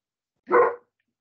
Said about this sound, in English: just as you came to me, my dog started barking